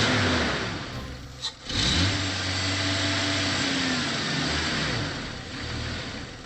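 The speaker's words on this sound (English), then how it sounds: "it would be smart if we switched it to boost mode so we can actually start the engine" A Jeep engine jump-started in boost mode cranks, catches with a brief stumble, and settles into a steady, moderately loud running drone that rises slightly near the end.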